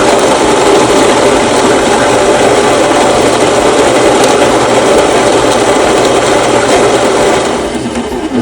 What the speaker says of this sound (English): That's why we use a burr grinder instead of a blade grinder